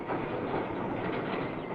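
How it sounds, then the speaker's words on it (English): A railway wiring train of two flat trucks carrying wire drums creeps slowly forward, giving a steady, muffled rolling rumble of wheels with no distinct beats throughout. "Finally comes the wiring train. 2 flat trucks with wire drums on them, paying out the wire as the train moves slowly forward."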